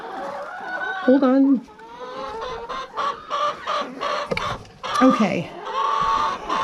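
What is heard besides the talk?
chickens clucking around the coop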